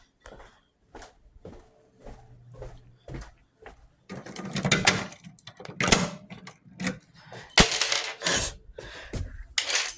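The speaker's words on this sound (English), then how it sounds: "Out of every time to drop the keys, I drop them while I'm making a video" A bunch of keys falls and clatters in bright metallic jangles and scrapes, preceded by scattered small clicks and handling noises nearby.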